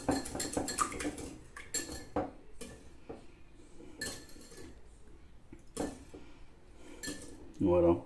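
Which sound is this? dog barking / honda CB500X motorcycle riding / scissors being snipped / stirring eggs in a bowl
stirring eggs in a bowl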